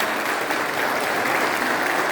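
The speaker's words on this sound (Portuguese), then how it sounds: "vamos dar uma salva de palmas para ela" Thick, even applause from an audience at a family talk event, a continuous wash of many hands clapping at steady loudness throughout, with no one speaking.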